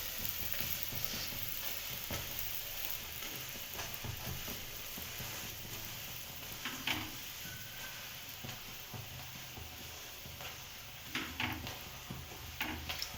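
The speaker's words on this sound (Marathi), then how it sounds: "पूर्ण छान असं दाबून दाबून भाजायचं" Thecha paratha roasting on a hot pan while being pressed down, a soft steady sizzle with occasional scraping and tapping from the turner, quiet and close, no talking.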